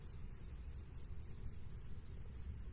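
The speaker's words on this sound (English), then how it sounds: "I need another sound effect that's just crickets chirping" Short synthesized-style cricket chirping sound effect, a steady run of about nine evenly spaced high chirps over a faint low rumble, heard alone with no talk.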